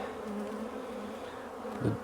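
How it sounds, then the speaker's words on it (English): Honey bees buzzing steadily inside a hive box, a soft close hum with a brief louder burst near the end. "we have lots of bees in here, very healthy hive"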